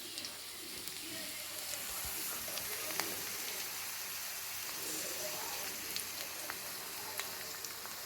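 Onions, carrots and frozen peas frying in a pan, a steady soft sizzle with occasional small crackles and ticks, close but fairly quiet throughout.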